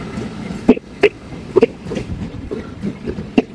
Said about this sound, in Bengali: ট্রেনটি এখন ক্রস করে চলে গেল সাগরদাঁড়ি সুন্দরবন এক্সপ্রেস ট্রেন